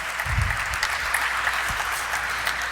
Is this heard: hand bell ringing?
no